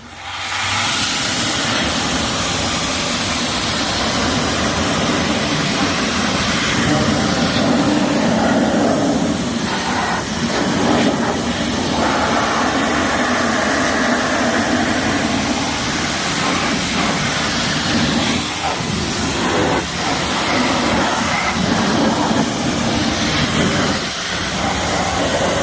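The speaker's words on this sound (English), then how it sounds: "We'll start off just pressure wash it." High-pressure water spray blasting the fender well and chassis of a 1997 Toyota 4Runner, a loud, steady hiss of water with splattering texture running continuously and close up throughout.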